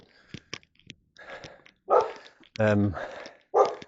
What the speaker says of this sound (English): if you've got a dog that barks at people going past your house